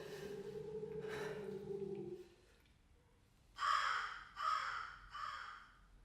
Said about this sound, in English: The raven himself is hoarse, that croaks the fatal entrance of Duncan under my battlements